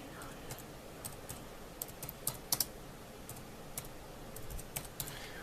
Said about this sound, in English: Let's type in magnesium.